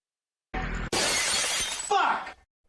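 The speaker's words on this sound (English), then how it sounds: "Metal plate smashing the screen with Tourette's guy screaming" A metal plate smashes into a screen and the glass shatters in a loud, sustained crash with debris spilling, while a man screams over it.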